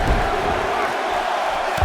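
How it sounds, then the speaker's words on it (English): A large wrestling arena crowd in the WWE 2K18 video game, at an Elimination Chamber match, roars steadily and loudly throughout, with a few sharper swells, and no clear individual voices stand out. "Listen to this crowd count the next one in."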